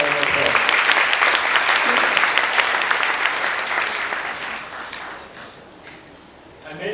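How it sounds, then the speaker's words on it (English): Applause from a Rotary meeting audience, a burst of loud clapping that gradually thins and fades toward the end of the seven seconds. "please give him a big round of applause"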